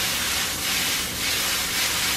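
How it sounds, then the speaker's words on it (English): Food searing in butter in a pan on maximum heat gives a loud, steady sizzling hiss that swells slightly and runs without pause, with no talking. "Let it sit on a maximum heat like a steak. We're gonna sear it."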